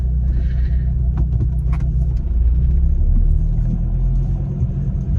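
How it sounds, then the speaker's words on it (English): A Volvo XC70 with the D5 diesel engine runs with a steady, low, throbbing rumble, close and continuous, with no voices over it. "the D5 engine's got like a diesely sort of throb to it"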